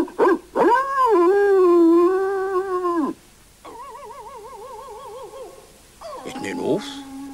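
Cartoon dogs howl and yip in a mix of drawn-out wavering calls and short sharp cries, loud and close, with no talking.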